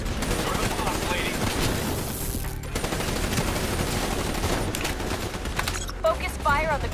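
Rapid automatic gunfire rattles in Call of Duty Black Ops 3, dense bursts of shots layered with explosions and battle noise, while a voice talks over the action.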